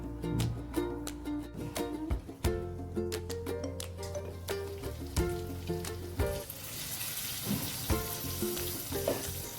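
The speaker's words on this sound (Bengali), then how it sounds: "মাছগুলো খুব ভালোভাবে ভাজা হয়ে গেছে" Tangra fish frying in a covered pan, a steady, fairly loud sizzle and crackle that runs throughout with tonal music layered on top.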